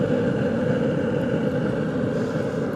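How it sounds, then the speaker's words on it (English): A Traeger Ranger pellet grill running hot with a steady, loud, close-up whooshing roar like a small turbo jet engine, continuous and unbroken with no talking. "You can hear, sounds like a little turbo jet engine in there."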